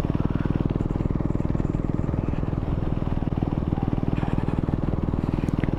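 A motorcycle ridden steadily at about 20 to 25 mph, its engine droning continuously and close with a dense, even pulsing throb and no pauses.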